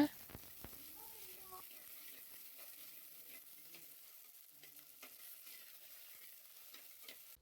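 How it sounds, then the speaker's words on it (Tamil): Garlic sautéing in a pan for fish curry, a faint, steady sizzle with light stirring throughout. "அதை போட்டு நல்லா வதக்குங்க"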